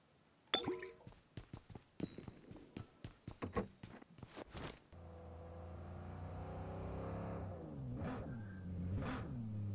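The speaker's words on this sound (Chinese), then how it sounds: "前头又来了一辆小摩托" A small motorbike in a video game, first heard after a run of sharp clicks, settles into a steady buzzing engine drone. Its pitch then climbs and dips as it revs near the end.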